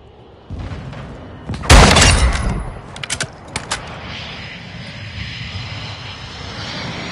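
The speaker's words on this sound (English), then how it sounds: "Enemy UAV overhead." An enemy UAV drone sweeps overhead in a military shooter video game, a loud rushing engine roar that swells and fades, followed by several sharp bursts, with a steady hum lingering underneath.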